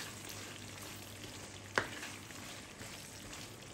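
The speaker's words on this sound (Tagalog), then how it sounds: "Kumukulo na mga friend." A steady, low bubbling sizzle from pork binagoongan stew boiling in a pot on the stove, broken once by a sharp pop, with no one talking.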